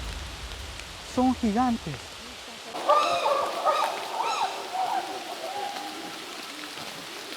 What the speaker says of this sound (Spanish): Está lloviendo demasiado